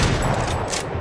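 Shotgun fire in Fortnite Chapter 3: a loud, dense blast of gunfire that fills the whole short moment, with no talking over it.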